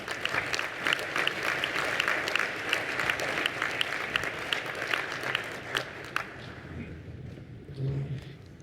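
A crowd applauds steadily for several seconds with dense clapping, then it fades and a voice begins speaking near the end.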